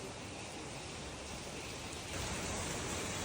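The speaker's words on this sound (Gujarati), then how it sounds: "અત્યારે વરસાદ ધોધમાર પાછો આવે છે" Heavy rain pours down as a dense, steady hiss of drops, swelling even louder partway through, with no voices.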